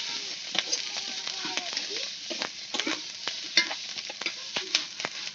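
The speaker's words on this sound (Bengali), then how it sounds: "টমাটোটা একটু সেদ্ধ হবে, তেলে ভাজবে" Tomatoes frying in hot oil with bay leaf in a pan for a vegetarian dish: steady close sizzle with repeated sharp spatula scrapes and stirring clatter throughout, no talking.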